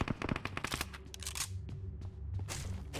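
Rapid bursts of automatic submachine gun fire from Uzi and UMP in PUBG Mobile rattle in quick succession, sharp and loud, with brief pauses between volleys and no talking.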